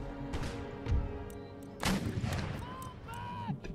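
Artillery and musket fire in an Empire: Total War battle, with booming cannon blasts and crackling volleys over a busy battlefield background, with brief tonal calls rising in between.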